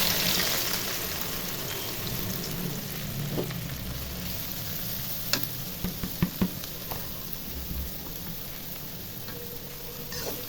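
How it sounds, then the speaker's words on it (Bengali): Chopped onion frying in hot oil in a pan for a chicken dish, a steady broadband sizzle throughout with a few sharp utensil knocks near the middle. "তেল গরম হয়ে গেছে, এখন পেঁয়াজ কুচি দিয়ে দিব।"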